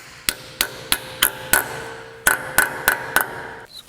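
A hammer taps a grease cap onto a 1955 wheel hub, nine sharp metallic strikes at a steady pace with one short pause midway, close and clear with no talking.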